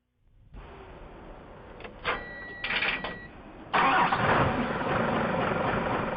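A truck engine cranks and catches, then settles into idling. A soft rise and a couple of surges follow before the idle steps up to a louder, steady rumble that holds to the end, with no talking.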